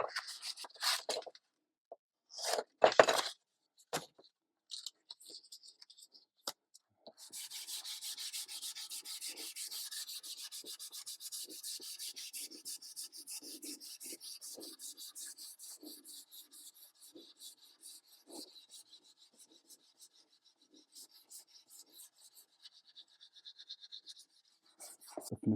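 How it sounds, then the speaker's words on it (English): Quiet hand sanding on wood with 320-grit paper on a small sanding block, a few scattered scrapes first, then a long run of fast, even rubbing strokes that gradually fade. "I'm actually going to use a smaller sanding block"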